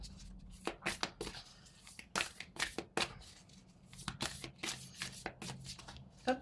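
Deck of tarot cards being shuffled by hand, a run of crisp riffling and slapping bursts in irregular rhythm, close and fairly soft, with no talking.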